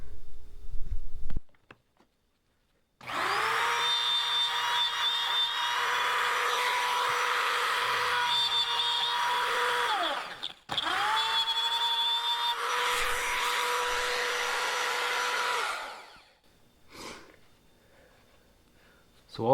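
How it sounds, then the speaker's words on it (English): A handheld router cutting a mortise in a wooden headboard build using 2x6 and 2x4 lumber, a loud steady high-pitched whine running in two long passes with a brief dip between, then winding down. "I'm going to use my router again."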